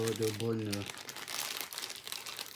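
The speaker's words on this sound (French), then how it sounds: "On va le déballer." A micro USB to USB cable is unwrapped from its packaging. A short burst of voice comes first, then close, continuous crinkling and rustling of the wrapper.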